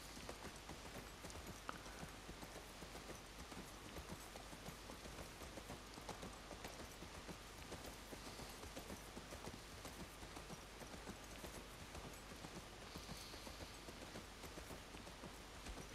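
Horse hooves clip-clop steadily while riding in The Last of Us Part II, a continuous even rhythm mixed with a soft rain-like wash throughout.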